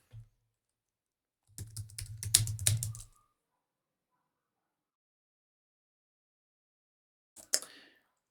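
Typing on a computer keyboard for a book description: a dense burst of keystrokes lasting about a second and a half, a tiny click before it, long silence, then a brief final pair of taps near the end.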